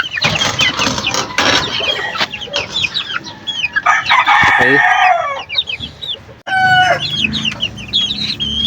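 Several caged hens clucking and squawking loudly nearby, with a rooster crowing partway through over a busy barnyard.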